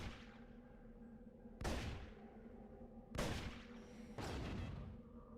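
Three loud gunshot blasts in Deus Ex 2, each a sharp broadband crack decaying over a second, spaced irregularly over a low steady in-game hum with no voices.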